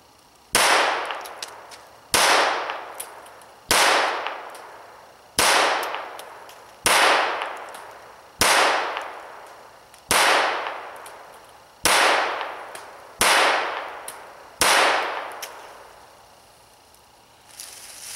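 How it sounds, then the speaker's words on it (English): Browning Buckmark .22 pistol fitted with a Tactical Solutions barrel, firing Federal high velocity rounds: about eleven sharp, evenly spaced shots, each a loud crack with a short ringing decay, no voices. "So now from a different angle, again, we're just firing the gun to get a sense of where it's hitting."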